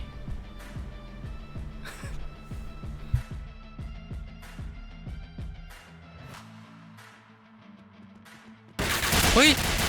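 Rapid bursts of game gunfire crackle in quick succession, with background talk throughout and a sudden loud blast near the end.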